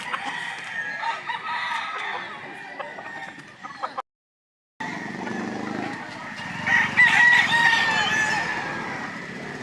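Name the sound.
roosters crowing and clucking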